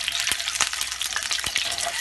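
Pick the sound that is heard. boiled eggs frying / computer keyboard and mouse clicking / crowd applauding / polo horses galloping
boiled eggs frying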